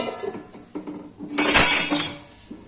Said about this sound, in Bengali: এবার এটা ফোটার জন্য এটাকে ঢেকে দেবো